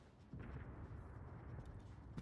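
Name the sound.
coastal guns firing in a naval battle video game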